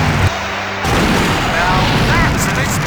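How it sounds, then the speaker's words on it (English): An explosion in the PC adventure game Full Throttle, a loud booming blast with heavy low rumble that swells and rolls on for a couple of seconds, preceded by a brief game voice. "Now that's an explosion, ladies and gentlemen."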